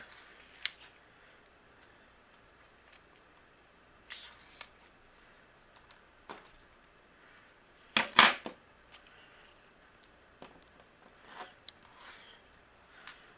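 Scissors trim leftover foam tape for a handmade card in a quiet room, giving a few soft isolated snips and one sharper, louder cut near the middle, with faint handling rustles around them.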